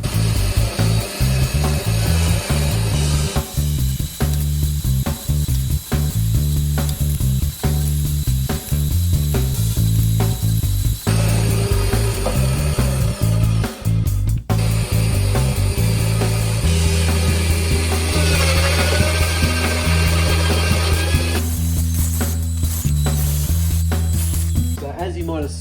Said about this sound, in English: So I'll go and drill all those while I'm going.